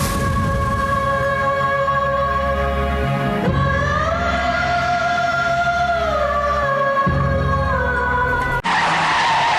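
A car skids with a long, loud tire screech that bends in pitch over several seconds, an engine roaring beneath it, ending abruptly near the close.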